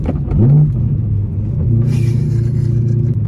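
A BMW E92 M3 Competition's naturally aspirated V8 revs up close, a loud blip then a sustained throaty rumble while stationary in an industrial park.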